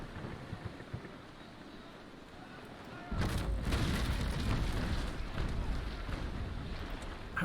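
Ship's cannons fire a broadside in the naval combat game Naval Action, bursting in partway through as a loud rolling wall of booms that rumbles on over steady wind and sea noise.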